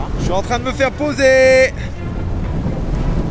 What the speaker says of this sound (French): Je suis un peu face au vent dans la couche de brise